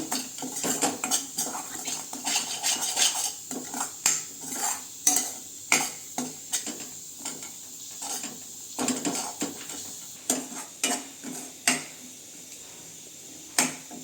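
A metal spoon scrapes and clanks against a pan while ginger garlic paste with turmeric fries for a prawn curry. The clinks and scrapes repeat irregularly over a low sizzle, close and fairly loud, with no voice.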